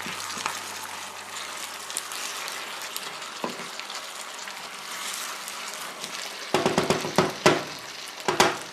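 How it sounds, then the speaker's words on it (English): Potato slices frying in oil with onion and garlic for a Spanish tortilla give a steady low sizzle, broken near the end by several louder clattering stirs and scrapes in the pan. "we want it to fry, but we don't really want it to become like chips"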